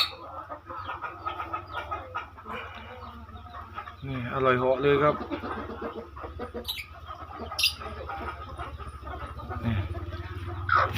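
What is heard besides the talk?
hen clucking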